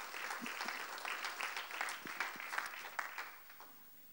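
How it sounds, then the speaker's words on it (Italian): Audience applause for award winners at a presentation of the Fano waterfront project, a moderate, steady patter of clapping across the whole stretch that thins toward the end. "Anche qui un applauso."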